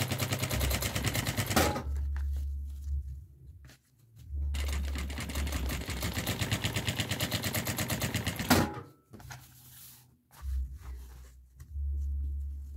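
A sewing machine topstitches the edge of a box-shaped toiletry bag with a long stitch length of 5 and size 40 thread, loud rapid mechanical chattering in three bursts separated by quiet pauses.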